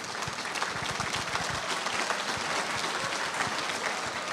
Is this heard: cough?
no